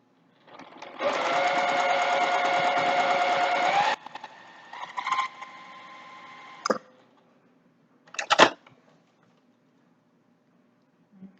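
A sewing machine stitches a quarter-inch seam on a single-layer Olson-style fabric mask, running in one steady burst of about three seconds, then in short stop-start bursts and a few brief clicks.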